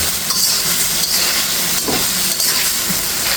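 Potatoes are sautéed in a hot pan for a spicy shol fish bhuna and cooked down until the water is gone. A loud, steady sizzling hiss runs throughout, close up, with no talking.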